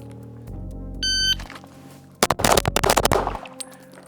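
Gunshots from an STI 5-inch pistol with an SRO red dot: a short electronic beep, then a rapid string of loud, sharp shots in quick succession, close and with nobody talking.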